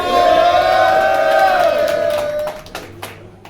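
A large crowd at a battle rap event in Denver roars and cheers loudly with whoops and yells, the noise swelling then fading over a few seconds.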